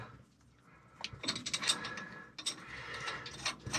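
Metal locking nuts being worked onto a stud of a leaking stern gland on a boat afloat, giving soft ratcheting clicks and scraping mechanical rattles in irregular bursts, fairly close and quiet, with no talk.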